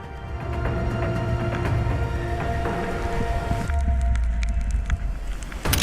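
Strong winter wind roars across a bare mountain ridge in the Carpathians, a steady, dense buffeting that blasts against the microphone and swells toward the end, with no voices.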